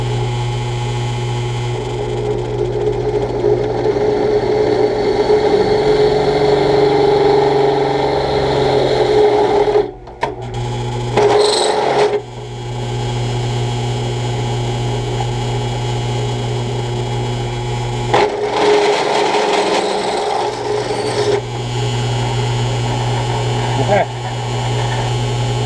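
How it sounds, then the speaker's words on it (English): A drill press motor hums loudly and steadily for a long stretch as a fresh bit drills a metal plate, briefly stopping and restarting, with a grinding tone as the bit works. "so we're going to do it on the drill press"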